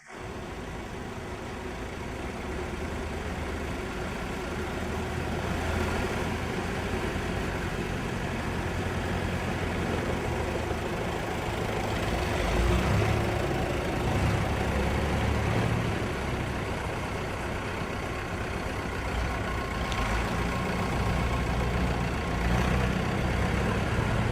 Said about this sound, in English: These tractors here are heading out to present themselves before the camera